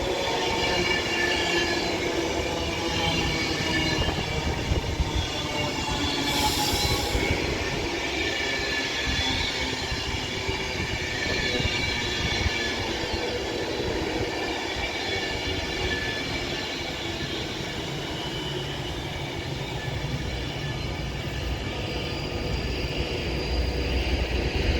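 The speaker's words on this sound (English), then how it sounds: "Now departing is going to be an Avanti West Coast service to Glasgow Central from London Euston" Avanti West Coast Pendolino electric train departing Wigan North Western station, a long steady rumble of rolling wheels and motors with a faint high squeal, continuous and moderately loud, no voices.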